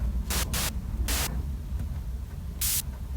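White noise from the noise section of a RedShrike synthesizer, heard as several short bright hissing bursts of differing length switched on and off over a low background hum.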